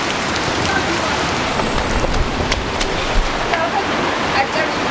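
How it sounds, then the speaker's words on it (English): A torrential downpour in Ethiopia roars steadily and loudly, dense rain pounding surfaces nearby with no letup and no voices. "A torrential downpour is happening outside"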